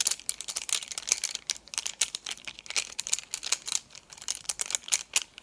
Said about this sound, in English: So I'm just going to go ahead and I'm going to like shuffle it.